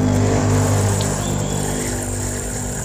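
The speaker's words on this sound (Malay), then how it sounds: "Maaf ada gangguan sikit, bising motor." A loud, close motor engine drones steadily throughout, a low rumbling hum with a slight rise and fall in intensity.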